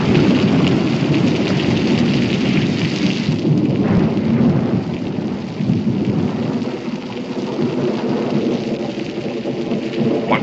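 A heavy thunderstorm in a 1969 Western drama, with steady loud rain and rolling rumbling thunder, dense and continuous throughout.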